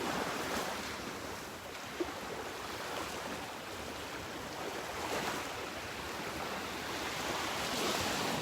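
Gulf waves roll in and break continuously on the beach at Delnor-Wiggins under a hurricane offshore, a broad steady wash of surf mixed with wind buffeting the microphone.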